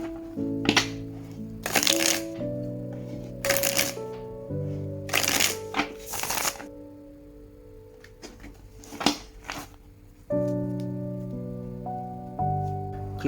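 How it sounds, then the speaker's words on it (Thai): A tarot deck is shuffled in several short, papery riffling bursts, close and distinct, over steady soft background music with sustained tones. "เดี๋ยวเราลองมาสับไพ่แล้วดูกันเลยนะครับ"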